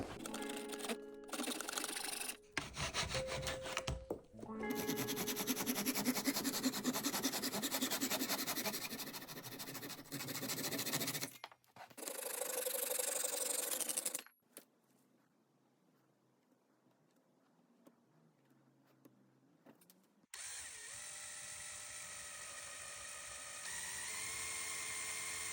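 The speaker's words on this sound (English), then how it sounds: "cutting out a custom rectangle and drilling 12 holes will probably be easier" Bursts of power-tool noise, a high whining drill or saw cutting a rectangle and drilling holes in a bass guitar body, running in stretches, separated by brief pauses and a stretch of quiet handling sounds.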